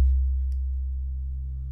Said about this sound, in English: If I ring modulate a sine wave by another sine wave at equal frequencies